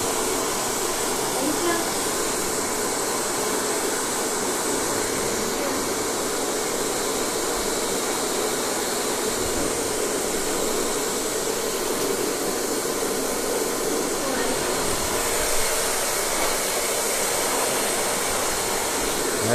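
A pet blow dryer roars steadily for the whole stretch while drying a wet dog's fur after a bath, a loud, constant rushing airflow with voices faintly underneath.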